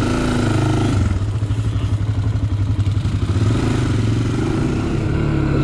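Engine of a 250 ATV revving hard at an off-road vehicle area, a loud, close, steady roar with pulsing throttle surges throughout.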